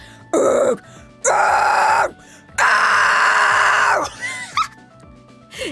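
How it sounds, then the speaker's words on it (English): A performer demonstrates high false chord screams, the harsh metal vocal technique, in three loud, raspy bursts separated by short pauses, followed by quieter trailing vocal noises. "can you do high false chord screams?"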